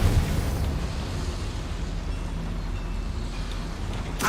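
A Confringo fire-blast spell in the Hogwarts Legacy video game detonates with a loud, rumbling low boom at the start, followed by a sustained roaring, crackling wash that lingers throughout.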